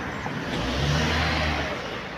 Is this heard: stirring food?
no